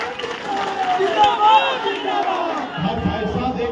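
Large outdoor rally crowd at a Nishad reservation campaign gathering in Dhanaura, Kahalgaon, Bhagalpur, roaring and cheering steadily throughout, a dense mass of voices with occasional shouts standing out, swelling slightly toward the end.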